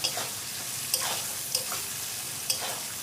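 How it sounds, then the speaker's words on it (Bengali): Vegetables for an egg chicken pasta sizzle steadily in a frying pan while being stirred, with a few sharp scrapes of the utensil standing out over the continuous frying hiss. "দেখো আবার নেড়ে দেবো একটু সবজিটা।"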